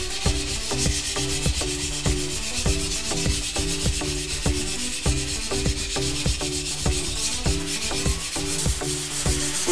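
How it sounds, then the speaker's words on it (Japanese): A yanagiba knife blade being sharpened on a whetstone, a steady, close rhythmic scraping of repeated strokes back and forth, alone with no voices. "砥石に当たってる面積が小さいと、こういう高い音があって、砥石に当たる面積が大きいとこういう低い音に変わる。"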